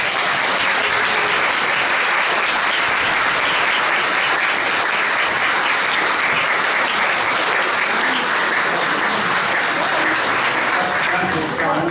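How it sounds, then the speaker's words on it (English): Audience applause fills the hall after a voice choir performance at the NAC 2023 event, a dense, steady roar of clapping sustained loudly throughout without a break. "Give everybody a round of applause."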